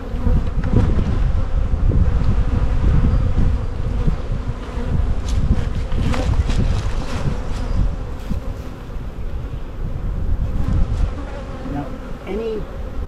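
Dense, steady buzzing of a swarm of honeybees around an open hive during an early spring inspection, loud and close throughout with no talk.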